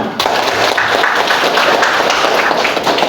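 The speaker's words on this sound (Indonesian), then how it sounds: "Tepuk tangan untuk Valentino." Classroom applause breaks out after a short pause, a steady clatter of many hands clapping at close range that holds evenly for about three seconds.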